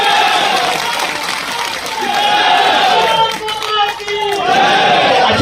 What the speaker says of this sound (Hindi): तालियां इस तिरंगे के लिए जरूर बजनी चाहिए।